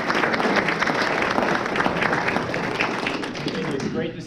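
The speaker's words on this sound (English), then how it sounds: "I'd like to give Senator Fields another big round of applause." An audience gives a round of applause at a 2022 Colorado attorney general debate, with dense, steady clapping from a large crowd that stays loud throughout before easing slightly at the very end.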